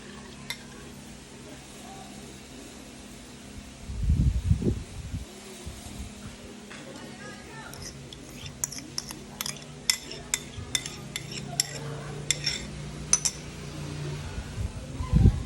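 Pork dinakdakan with chili and sauce is stirred in a pan, soft scraping and clinks of a utensil against the pan building into repeated knocks and taps over a faint sizzle.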